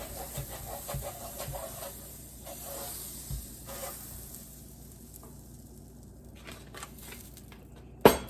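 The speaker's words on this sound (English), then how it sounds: "I'm just gonna rub the top of it with this salted butter" Salted butter rubbed across a hot, well-used griddle, giving a soft steady sizzle and hiss with faint scraping, ending in a sharp brief clatter.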